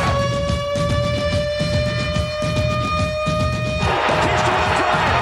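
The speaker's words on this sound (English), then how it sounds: "Here comes the siren." A stadium siren sounds at a baseball game, a loud, steady, sustained tonal wail over crowd noise for nearly four seconds before giving way to a roaring, cheering crowd.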